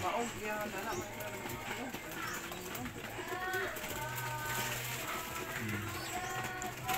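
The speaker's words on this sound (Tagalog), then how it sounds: "Nagaganda ang mga kalapati natin guys, oh" Homer pigeons cooing and shuffling while being fed, low soft coos repeating under someone talking over them, with rustling and wing movement close by.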